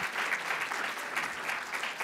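An audience at a Three Minute Thesis competition applauds the student presenters, a dense, even round of clapping that holds steady from start to finish with no voices over it.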